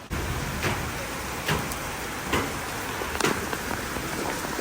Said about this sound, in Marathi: इतका पाऊस आलाय आता बाप रे बाप